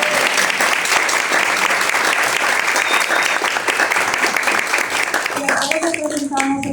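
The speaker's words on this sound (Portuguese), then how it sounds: "gente, palmas para eles." At an arts lecture event at the Centro de Artes, UFAM, a large audience claps loudly and continuously, a thick wash of many hands that thins toward the end as a few voices emerge.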